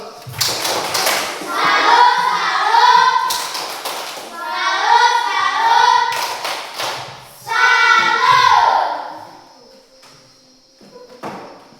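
A classroom of children performs the 'tepuk salut' clapping routine, with rhythmic bursts of claps and taps interleaved with children's chanting voices in several short phrases, ending quieter.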